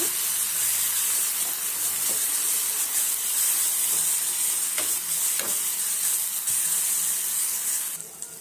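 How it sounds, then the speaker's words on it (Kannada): Washed prawns frying in a pan for a prawn curry, a loud continuous sizzle and hiss with scattered spatter pops and stirring scrapes, close by. "ಇಟ್ಕೊಂಡಿರೋವಂಥ ಸೀಗಡಿನ ಹಾಕ್ತಾ ಇದ್ದೀನಿ ಇದನ್ನು ಚೆನ್ನಾಗಿ ಸ್ವಲ್ಪ ಫ್ರೈ ಮಾಡ್ಕೊಳ್ಳೋಣ"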